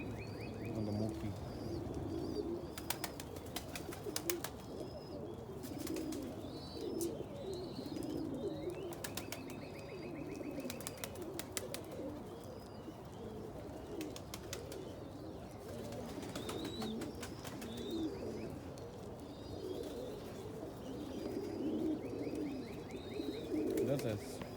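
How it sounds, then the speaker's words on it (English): Fancy pigeons, including Egyptian swifts, coo softly and steadily in a loft over a morning feeding, with chirps and fluttering scattered through and someone talking now and then. "That's an Egyptian swift hen over there."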